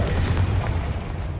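A Confringo fire spell in Hogwarts Legacy explodes with a loud, low, rumbling boom that holds steady for over a second with no talk over it.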